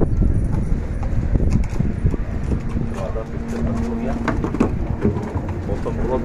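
Pigeons coo and flutter close by while someone talks over a blustery outdoor background.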